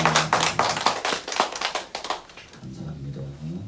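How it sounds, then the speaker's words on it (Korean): During a church ordination service, the congregation claps in blessing, a burst of rhythmic, fairly close hand claps that fades after about two and a half seconds as a voice begins speaking. "우리 박수로 축복합니다."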